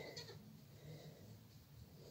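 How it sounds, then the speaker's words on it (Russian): Month-old young goat kids bleat faintly in a farm pen, a couple of soft high cries over steady low background noise and distant murmur. "Подросли наши козлята."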